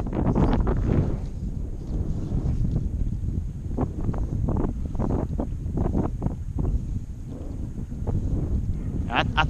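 Strong wind gusts roar steadily across a microphone in a river valley while fishing, a continuous low rumble with buffeting, and voices speak over it at times.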